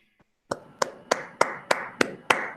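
Applause in an online meeting, a steady run of about eight separate, evenly spaced claps from a single pair of hands, close and crisp, starting after a short silence.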